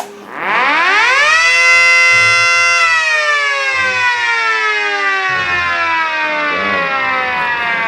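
A loud mechanical siren winds up quickly to a high sustained wail, then slowly drops in pitch as it winds down, with a brief rough sputter near the end.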